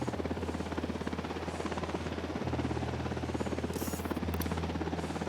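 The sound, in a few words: helicopter in the video game Ghost Recon Wildlands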